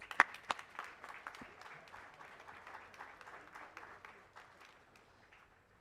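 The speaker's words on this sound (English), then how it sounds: "Please let's welcome them with a huge round of applause." Audience at a management convention applauding to welcome speakers: a steady round of clapping from many hands, fairly distant and moderate in level, thinning out gradually over several seconds.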